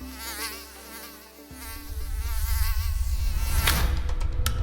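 Mosquito buzzing in an insect-tracking setting, a thin whining drone that swells over a low rumble, continuous and fairly close, with no voices.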